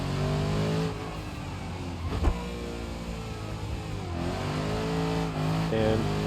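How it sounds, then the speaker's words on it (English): A car drifting in the video game BeamNG.drive, its engine note revving and wavering steadily with a sharp knock partway through and a shift in pitch near the end, loud and close with no talk over it. "And we are drifting"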